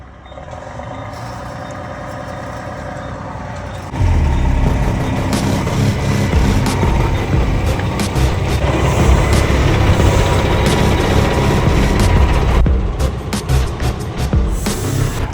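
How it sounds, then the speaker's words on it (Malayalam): A semi truck maneuvers to hook up a trailer on snowy, black-ice ground, its engine rumbling loudly and steadily, growing heavier after the first few seconds, with an intermittent reversing-beep pattern. "നമുക്ക് പയ്യെ വണ്ടി ഹുക്ക് ചെയ്യാൻ വേണ്ടിയിട്ടുള്ള പരിപാടികളെല്ലാം നോക്കാം"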